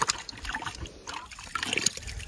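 Water flows into a dry valley with a steady, close trickling and gurgling and small splashes, and no voices.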